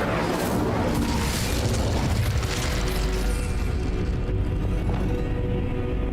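A fire spell is cast in Hogwarts Legacy, giving a loud, dense burst of whooshing, crackling flame that roars up at the start and gradually thins out over several seconds.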